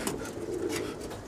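A Pakistani Teddy pigeon chick raised at home coos softly in a low, steady murmur that runs for just over a second, quiet and close, with no talking.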